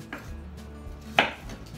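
A kitchen knife slices through an onion on a cutting board, one sharp close cut standing out against a quiet background with faint soft taps around it.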